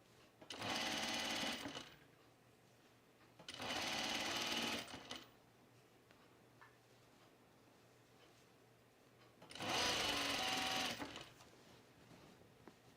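Sewing machine stitching around a shirt seam, three bursts of rapid mechanical whirring, each a second or two long and separated by quiet pauses, close and clear with no talking.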